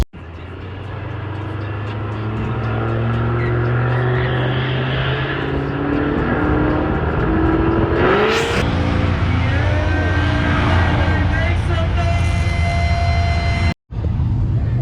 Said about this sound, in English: You watch some drifting